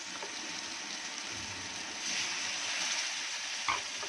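Water poured into sizzling fish curry masala in a pan makes a steady hiss and gush, with a brief splash near the end.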